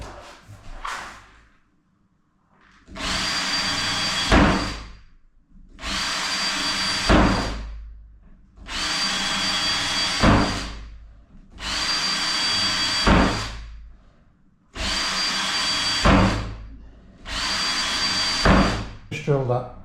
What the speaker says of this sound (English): So I'm just going to stitch drill it through.